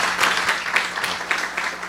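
Brief applause from a church congregation at a Wednesday worship service, a few seconds of scattered clapping with irregular bursts rather than a full roar, moderately loud throughout.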